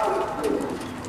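A female pigeon gives a short, low, throaty coo, close and fairly clear, lasting about a second.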